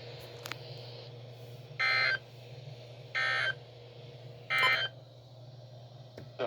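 NOAA weather radio emergency alert system tones: three short, loud bursts of digital data tones at even intervals over a steady broadcast hum, with brief clicks between them.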